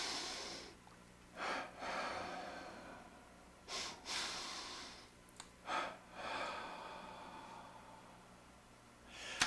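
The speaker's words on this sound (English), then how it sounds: "Another good breathing exercise is to take a short and a long breath through the nose," A person performs a breathing exercise, taking short and long breaths through the nose and exhaling through the mouth and nose; several distinct close breaths and snort-like inhales spaced across a quiet background.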